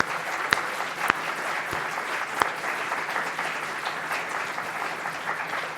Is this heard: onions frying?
no